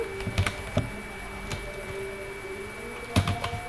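A computer keyboard is typed on in short, close, quiet bursts of clicks with brief pauses, typing a name into a Microsoft Word document; no speech.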